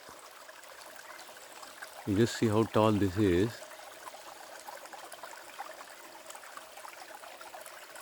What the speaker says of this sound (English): if you want streams like this, long lasting streams that are flowing even in the beginning of the summer